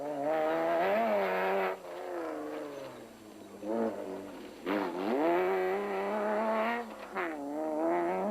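A Toyota Hilux rally truck in the Sun City 400 desert rally passes a checkpoint, its engine revving up and down in strong rising and falling sweeps, loud and near, with brief easing between surges.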